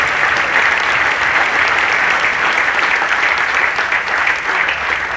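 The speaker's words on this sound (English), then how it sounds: "Ladies and gentlemen, let's get a round of applause for our swimmers." Outdoor audience applauding swimmers at an Army Ranger School demonstration, steady dense clapping from a sizable crowd sustained throughout at moderate loudness.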